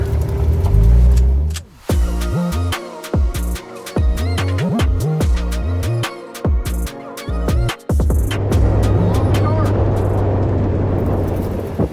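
A rebuilt Porsche 997 911 Turbo on the road: its engine rises and falls loudly through repeated gear changes, each revving climb cut short by a shift, heard close throughout.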